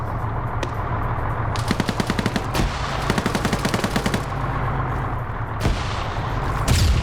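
Bursts of rapid automatic gunfire with sharp, punchy shots in quick rhythmic runs over a low rumbling background, loud and close.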